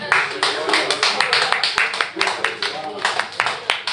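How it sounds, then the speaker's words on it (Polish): Audience clapping at a talk about a women's basketball club, with scattered uneven claps from a modest crowd under a steady hum of voices. "A dajcie brawa"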